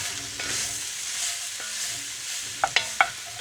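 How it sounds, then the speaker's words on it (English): Onions and garlic cook in a pan at a cold-weather campsite, a soft continuous sizzle with a few light scrapes and three sharp utensil clicks near the end. "Now we'll let this cook probably about 4 or 5 minutes, and we'll just be stirring it pretty much the whole time"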